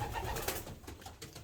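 Faint, low cooing from pigeons in a breeding loft that holds about thirty young birds, soft and close over a steady hum of background noise.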